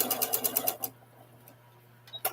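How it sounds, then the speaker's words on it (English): A home sewing machine stitching a churn dash quilt runs in a quick, rapid burst for under a second, then stops, leaving a low steady hum and a couple of faint clicks. "I'll wait till I'm done sewing"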